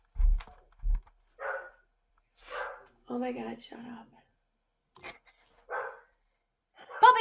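A puppy barks in short yips between bits of whispered and spoken talk, with a couple of low thumps and scattered faint clicks.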